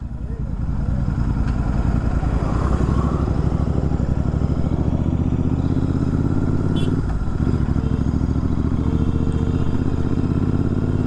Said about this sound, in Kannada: ರೆವ್ ಮಾಡಿದ್ರೆ ಇಂಜಿನಲ್ಲಿ ಒಂಥರ ವೈಬ್ರೇಷನ್ ಥರ ಸೌಂಡ್ ಬರುತ್ತೆ